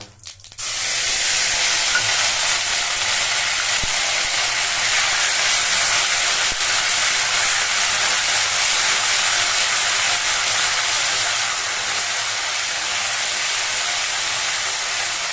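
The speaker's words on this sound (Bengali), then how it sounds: "এদিকে আমার তেলটা গরম হয়ে গেছে আমি এর ভিতরে দিয়ে দিচ্ছি গোটা জিরে আর দিয়ে দেব একটু আদা আর কাঁচা লঙ্কা বাটা" Cumin seeds with ginger and green chili paste dropped into hot oil, giving a sudden loud, bright sizzle that settles into a continuous, even hiss and crackle lasting the whole time.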